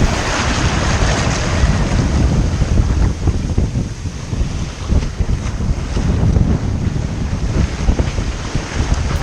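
Sea waves breaking over the surf on a river bar at the mouth of the River Exe, heard from a sailing boat: a loud, continuous rushing wash with strong wind buffeting the microphone throughout.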